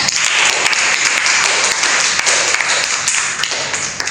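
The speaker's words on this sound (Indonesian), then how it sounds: "Beri aplaus untuk teman kalian." A classroom of students applauds a classmate in a teaching-practice geography lesson, dense close clapping that holds steady for several seconds and then starts to thin out.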